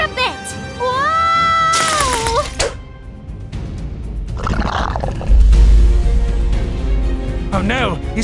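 A cartoonish cat meows in a long, wavering, high cry, followed by excited character voices, a rough roar-like burst and a final short whiny meow.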